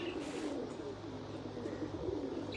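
Pigeons coo in soft, low, repeated calls close by, over a steady outdoor background hum and light rustling.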